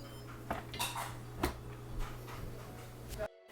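An Instant Pot pressure cooker lid is opened after cooking rice, giving a few close metallic clanks and clatters over a faint hum, then sudden silence.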